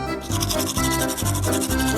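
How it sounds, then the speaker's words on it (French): A toothbrush with toothpaste scrubs back and forth in quick, rhythmic rubbing strokes, close up and fairly loud, with no talking. "Alors, il est temps de me brosser les dents"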